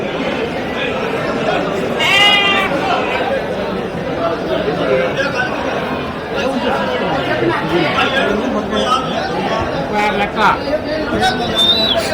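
Sheep bleat intermittently at the busy Saturday livestock market in Angallu, under constant crowd chatter and people talking nearby.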